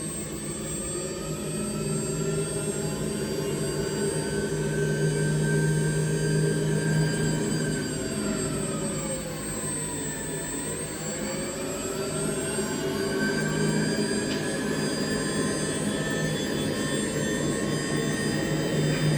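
A customized Rawsuns READ4200 electric axle with integrated differential and gearbox runs forward, giving a steady motor whine with shifting tonal harmonics that dip and rise midway, loud and continuous throughout.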